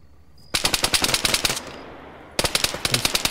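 Bursts of automatic machine gun fire in the military shooter game ARMA 3, rapid sharp reports in two long volleys separated by a pause, loud and close with no talk.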